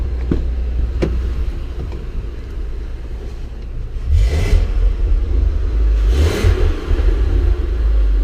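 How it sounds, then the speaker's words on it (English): The V10 Triton engine of a 2017 Ford F-650 truck with a 26-foot box idles with a deep rumble, then revs up twice, each surge swelling and falling back, close and loud. "Give you guys some revs here."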